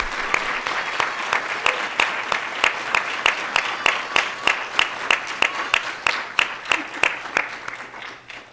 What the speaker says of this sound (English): Please join me in congratulating our artists once again.